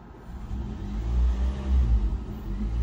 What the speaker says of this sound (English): let's quickly check the idle